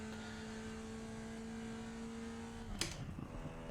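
A Formula Vee race car engine in the iRacing sim racing game holds a steady, buzzing drone throughout, broken near the end by one sharp click before the engine carries on.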